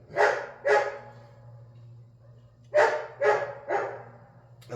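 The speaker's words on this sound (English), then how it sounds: "pardon the dog's barking" A dog barks nearby in a garage workshop: two sharp barks, a short pause, then three more in quick succession, clear and fairly loud over a low steady hum.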